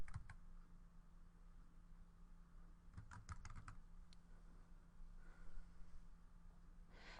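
A few quiet bursts of typing on a computer keyboard, short clustered key clicks over a steady low hum in a quiet room.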